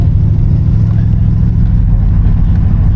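A 1984 Oldsmobile 98 Regency's engine hums steadily from inside the car while driving, a loud low drone with a constant tone and no revving changes. No talk is heard.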